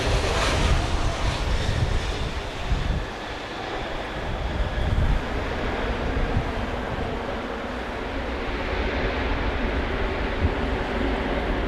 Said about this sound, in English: We've got Cayman Airways Flight 105 coming in from Miami.